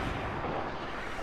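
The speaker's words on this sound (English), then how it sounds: "those are grenades" Grenade explosions in the Fortnite video game merge into one loud, dense, continuous roar that fills the short stretch without a break, with no voices over it.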